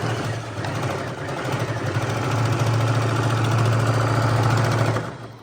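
A plain electric sewing machine runs steadily with a buzzing, motor-like hum and rapid mechanical vibration, growing louder and more even midway before cutting off near the end.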